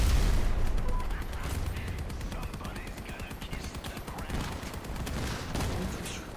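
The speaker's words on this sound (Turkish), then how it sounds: "Bak Allah için füze atıyor" Rapid volleys of missiles launched from armored vehicles in the Crossout combat game, loud dense bursts following one another with a voice now and then.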